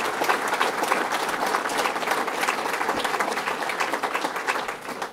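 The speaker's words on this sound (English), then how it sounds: "let's give them a round of applause for that" Sustained, even applause from a crowd at a governor's bass fishing tournament event, steady and full throughout with a slight drop at the end.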